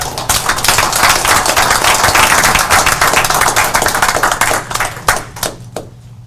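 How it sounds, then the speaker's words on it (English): A room full of people clapping in dense, sustained applause, loud and steady before thinning out into a few scattered claps at the end. "Please join me in giving Benny a round of applause."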